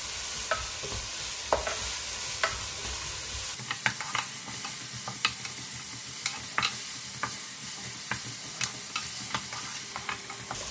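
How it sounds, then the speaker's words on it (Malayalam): Onions with curry leaves sautéing in oil sizzle steadily up close, broken by a string of sharp spatula clinks and scrapes against the pan. "സവാള ഒരു 8 മിനിറ്റ് നന്നായിട്ട് സോട്ട് ചെയ്തെടുത്തിട്ടുണ്ട് എണ്ണയിൽ"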